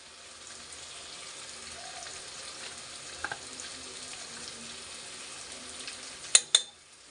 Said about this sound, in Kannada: ಹಸಿ ವಾಸನೆ ಹೋಗೋವರೆಗೂ ಫ್ರೈ ಮಾಡಬೇಕು ಫ್ರೆಂಡ್ಸ್